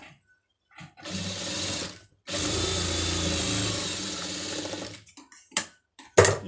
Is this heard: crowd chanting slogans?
no